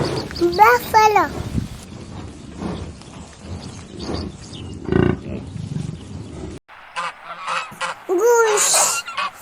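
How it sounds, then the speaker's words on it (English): A goose honks several times in quick, nasal calls near the start and again at the end, with a spoken voice in between and a short silent gap. "goose,"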